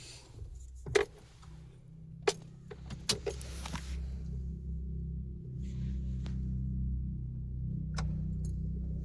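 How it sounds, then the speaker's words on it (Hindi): A car being started: keys jangle and click in the ignition, then the engine catches and settles into a steady low idle, heard up close without talk. "अब स्टार्ट करो गाड़ी को।"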